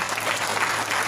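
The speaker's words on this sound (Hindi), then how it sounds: "चलिए बहुत बढ़िया, जोरदार ताली।" An audience claps loudly and densely in a continuous, even burst of applause, close and with no pauses.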